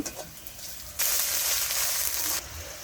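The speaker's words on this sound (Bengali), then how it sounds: "এই যে দেখেন প্রথমে মা মশলা টসলা দিয়ে পেঁয়াজটা কষাই নিতেছে" Onions frying with spices in a hot pan for rui fish curry, a soft sizzle that suddenly surges into a loud, bright hiss for over a second before easing back down.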